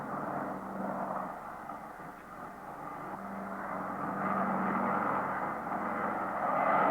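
A Douglas DC-6 piston airliner on landing approach with its gear down gives a steady, low engine drone that swells slowly toward the end and carries on alone with no talk.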